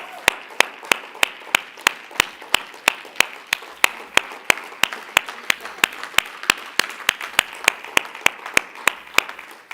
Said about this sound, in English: let's give the Lord a great big hand clap of praise.